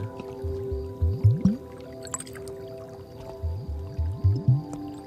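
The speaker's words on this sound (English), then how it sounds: "This is just called a test tube with water." Water sloshing inside a test tube held right against the microphone, giving close, wet squishing and gurgling pulses in two clusters of rising bubbly tones, with quiet drips between.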